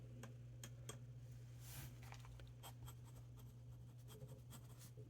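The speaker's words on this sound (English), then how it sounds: "So a quick little writing sample." Pen nib scratching across paper in a quick handwriting sample with Troublemaker ink, the Nenita shade; soft, close, continuous scratchy strokes with small ticks, alone over a steady low hum.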